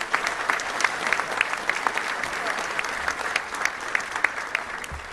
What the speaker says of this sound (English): Let's give our Touchdown Club team a round of applause.